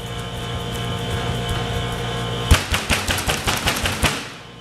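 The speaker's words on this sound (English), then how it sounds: "really anchor that seam down and give it a good pounding with my palm" A palm pounds shaped baguette dough on a table on a back porch to seal the seam. About eight dull thumps land in quick succession over a steady background hum.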